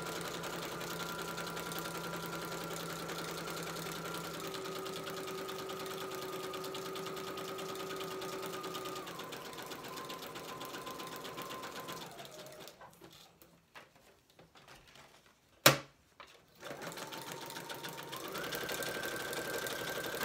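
A home sewing machine runs a zigzag stitch in light thread through fabric, a steady mechanical whir that pauses briefly and then resumes, close and fairly loud with no talking.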